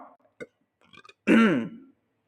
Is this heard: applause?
no